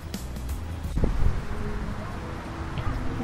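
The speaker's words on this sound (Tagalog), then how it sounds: "ang lakas ang hangin dito" Strong wind at a beach in Bauang, La Union, buffeting the microphone with a continuous rough rumble, with a few gustier bursts near the start and around one second.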